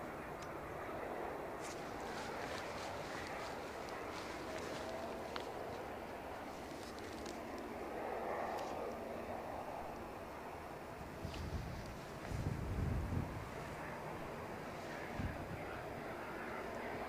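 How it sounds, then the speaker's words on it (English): A distant aircraft on final approach to Edinburgh Airport during a storm, a faint, steady engine drone buried in gusting wind and microphone buffeting, with a brief low rumble swelling near the end. "So we do have another aircraft well advanced into finals."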